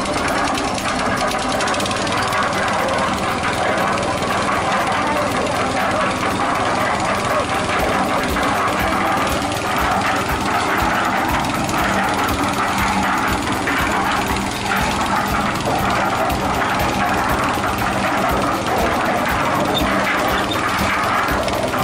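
A cement mixer's engine runs steadily at a construction site, a continuous loud mechanical drone with rattling, ratcheting overtones that holds without pause throughout, with voices faintly present beneath it.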